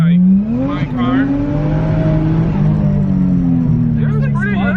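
A Toyota JZX100 engine with boost turned up revs loud and close, climbing in pitch, dropping briefly at a gear change into fourth, then pulling up again steadily.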